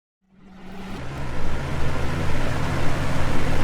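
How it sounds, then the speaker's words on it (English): Small battery-powered electric motor spinning a fan that speeds up after more batteries are added in series, a whirring hum that swells from silence into a steady loud rush of air and motor noise. "The motor turns faster and the fan blows air more rapidly."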